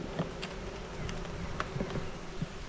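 Honey bees buzz around a beehive during an inspection, a faint, steady drone with a few brief clicks and knocks over it.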